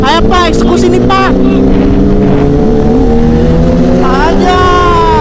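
Kawasaki ZX-10R motorcycle being ridden on a potholed road in Lampung, its engine loud and close with rising and falling revs. Bursts of rapid high-pitched whine come at the start and again near the end, and voices talk over parts of it.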